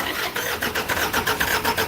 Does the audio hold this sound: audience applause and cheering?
no